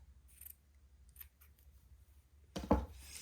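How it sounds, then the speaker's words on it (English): Fabric scissors trimming raggedy seam edges for a French seam: a few faint snips early on, then one louder, close crunching cut near the end in an otherwise quiet room. "I am going to go ahead and trim my raggedy edges"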